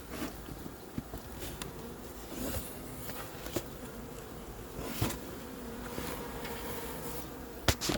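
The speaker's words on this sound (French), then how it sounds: "Une quantité phénoménale d'abeilles." A phenomenal mass of honeybees from a captured swarm buzzes steadily at the hive during hiving, a dense continuous drone close by with a few soft knocks and clicks, no talking.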